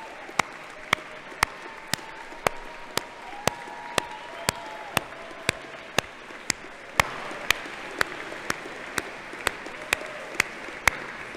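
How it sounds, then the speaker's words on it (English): A crowd at a 2018 Clarkson graduate commencement ceremony applauds the graduates' supporters: a soft bed of crowd clapping with sharp, evenly spaced claps standing out in a steady rhythm about twice a second, swelling slightly toward the end. "How about reversing and applauding your supporters?"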